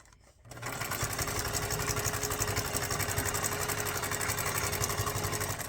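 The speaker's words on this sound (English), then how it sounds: "we're going to sew this all around" A sewing machine starts up and runs steadily, stitching around rolled strips of paper and fabric scraps, its rapid rhythmic whirring loud and close throughout.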